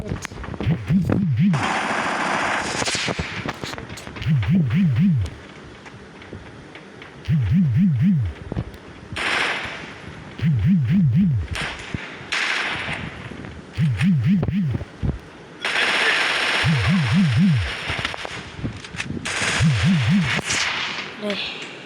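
Bursts of automatic gunfire from a shooting video game, recurring every couple of seconds in loud rattling volleys against a steady game backdrop, with a person talking between and over them.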